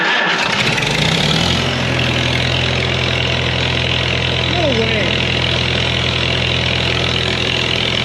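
A 1939 Farmall H tractor engine starts and settles into a steady idle, running continuously and close, with a brief mechanical whine partway through.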